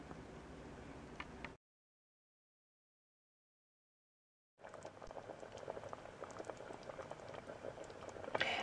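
Leek and potato soup with stock simmers in a pot, a soft bubbling patter that cuts out into silence for a few seconds before resuming with small pops, quiet and close, no talking.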